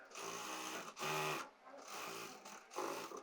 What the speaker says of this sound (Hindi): अब यहीं से सिलाई लगाएंगे।